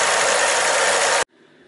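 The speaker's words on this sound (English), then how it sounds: "when this engine is running" A car or pickup truck engine runs loudly with a steady, broadband roar, then cuts off abruptly and leaves a faint low hum.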